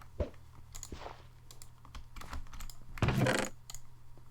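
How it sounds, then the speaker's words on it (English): Rapid left and right mouse clicking during a Minecraft Skywars match, a quick run of close, sharp clicks with a denser burst near the end, over faint background noise. "Spam right and left click."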